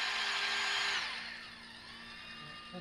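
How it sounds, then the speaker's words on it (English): A power drill re-drills a mounting hole for a rock slider on a Can-Am Maverick X3, whining loudly at steady speed for about a second, then winding down to a quieter lingering hum. "Now we're gonna re-drill this, and good to go."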